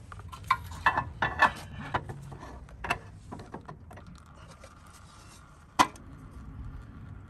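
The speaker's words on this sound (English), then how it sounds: "I'm going to grab a hold of the brake dust shield and pull out." Metal rattles and clunks as a brake dust shield is worked loose and pulled off a Toyota rear axle during an axle seal and bearing job, with several sharp knocks early and one loud clank near the end, close and without talk.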